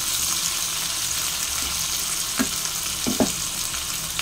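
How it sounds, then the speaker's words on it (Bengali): Onions frying in oil toward deep red birista, a constant close sizzle with a few brief utensil knocks near the end. "এবারে এখানে পেঁয়াজগুলোকে একদম বেরেস্তার মতন ভাজবো, একদম লাল লাল করে বেরেস্তা করে নেবো পুরো পেঁয়াজটা"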